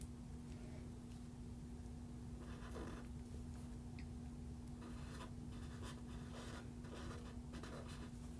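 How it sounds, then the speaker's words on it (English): An Emboss It pen draws a flower border across a greeting card, giving a soft, continuous scratching of the tip on card stock over a steady low hum, with faint taps and strokes coming and going. "So I'm just going to make a flower border around the card."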